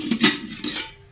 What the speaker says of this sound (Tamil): அடுக்கு பாத்திரம்